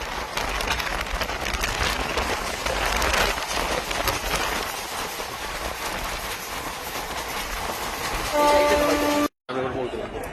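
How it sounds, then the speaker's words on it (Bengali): Bhadrak Howrah Bagha Jatin Express running on the rails, a loud continuous rumble and rattle of the moving train with a horn sounding near the end and voices faintly underneath. "তো আমরা যাচ্ছি ভদ্রক হাওড়া বাঘাযতীন এক্সপ্রেসে।"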